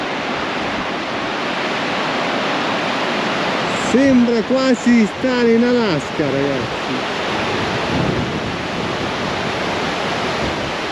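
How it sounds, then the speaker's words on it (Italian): A river flows along the Cerro Torre trail near El Chaltén in Patagonia, a steady broadband rush filling the whole clip, with a person speaking over it in the middle. "Sento il fiume."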